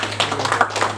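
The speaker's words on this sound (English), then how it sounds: "let's give a round of applause to Mr." A brief burst of audience clapping at an event at the Gambia Chamber of Commerce, dense and fairly loud with uneven peaks, lasting about a second.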